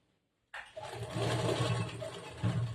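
A sewing machine starts abruptly after a short silence and whirs steadily, stitching a collar-neck blouse, close and continuous to the end.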